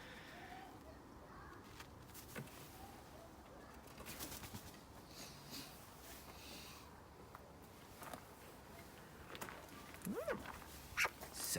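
A pet bird calls in short, fairly faint chirps and squawks indoors, a few louder ones near the end, with quiet background rustling.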